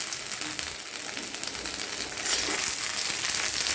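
Fenugreek seeds and chopped ginger sizzle in hot cooking oil, a dense steady crackling hiss close up that grows slightly louder partway through, with no talking over it.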